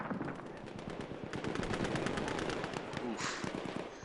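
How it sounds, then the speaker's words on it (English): Rapid automatic gunfire crackles back and forth during a team objective match in a shooter video game, dense overlapping bursts and single shots filling the whole stretch at steady loudness. "Trading shots back and forth."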